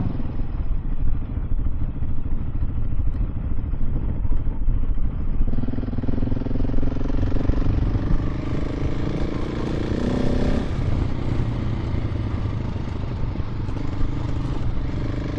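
A motorcycle rides a gravel trail in Germany, its engine droning steadily and close throughout, with loose clattering from the surface and gear shifts as the pitch climbs and drops.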